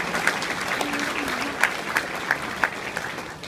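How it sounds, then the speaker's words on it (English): Audience applause fills a ball for kids, a steady wash of clapping with a few sharper claps standing out, and a faint voice briefly underneath. "So let's give them a big round of applause,"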